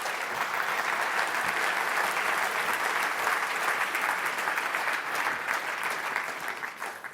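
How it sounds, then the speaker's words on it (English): Warm, sustained audience applause for a panel at a manufacturing event, an even, dense wash of many hands clapping throughout with no talking over it. "Can you give them a warm round of applause?"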